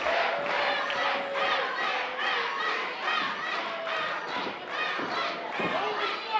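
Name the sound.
wrestling crowd cheering for Dak Draper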